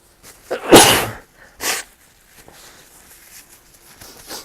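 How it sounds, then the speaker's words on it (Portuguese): A person sneezes during a Portuguese audiobook-style reading, one loud close burst followed by a smaller second sneeze, then quiet shuffling and breathing. "Todo mundo espirra, né?"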